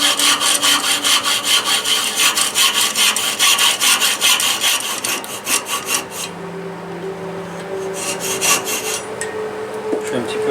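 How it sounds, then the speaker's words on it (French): A hand saw cuts a bias at roughly 45 degrees through cherry wood while making a piston whistle, with rapid rhythmic rasping strokes, a short pause, then a few more close strokes. "Maintenant je vais couper le biais. Donc il faut couper à peu près à 45 degrés d'angle."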